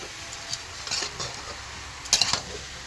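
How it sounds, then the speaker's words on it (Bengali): Vegetables being stirred in a pot, with faint scrapes and a few light metallic clinks of a utensil against the pot, quiet and close, ending in a brief cluster of sharper taps. "এবার আমি সবজিটা নাড়ছি"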